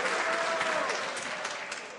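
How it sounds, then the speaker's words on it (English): Members in the House of Commons chamber applaud with steady, dense clapping that runs the whole time at an even loudness and tapers slightly at the end. "I'll ask members once again to wait until the ministers finished answering before they applaud"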